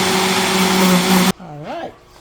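A countertop blender runs loud and steady on papaya, milk and ice for about a second and a half, then cuts off abruptly, leaving a brief voice in the quiet afterward.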